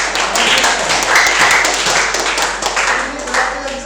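Loud, close clapping from a classroom audience of teachers or students, a dense steady patter of many hands with faint voices mixed in.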